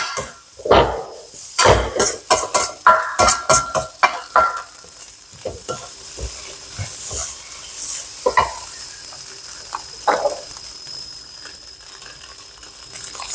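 Shrimp fried rice stir-fried with butter, a grandmother's recipe: loud, rapid metal spatula scrapes and clanks against the pan in quick bursts over a continuous sizzle, close up, easing into slower stirring.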